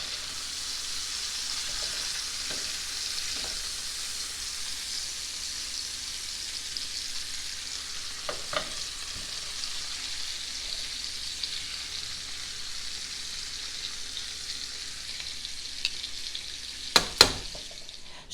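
Seared oxtails simmering in a soup pot give a soft, steady sizzle and bubbling hiss, with a few faint clinks and stirring sounds and a sharper double clatter near the end.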